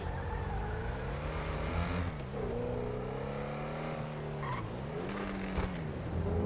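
A video game car engine revs up and down in rising and falling sweeps, steady and moderately loud with a few brief knocks near the end.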